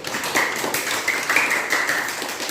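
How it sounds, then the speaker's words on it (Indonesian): Junior high school students clap together in a classroom, giving dense, steady applause that sounds close and fairly loud, with a faint thin tone drifting above the clapping. "Tepuk tangan buat kalian"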